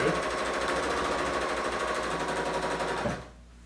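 A Bernina L890 serger runs in a fast, steady whirring rattle, close and loud, then stops abruptly near the end.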